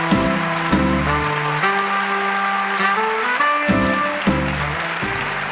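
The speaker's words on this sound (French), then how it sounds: "Un tonnerre d'applaudissements pour Julien Santini, mesdames et messieurs." A theater audience at a stand-up comedy gala claps and cheers loudly and continuously for a comedian taking the stage while upbeat music plays over it.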